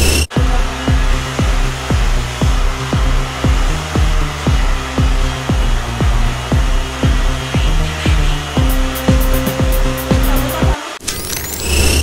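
Loud, close whine of a hair dryer blowing on washed hair, running steadily with a pulsing rhythm before cutting off near the end, followed by brief rustling.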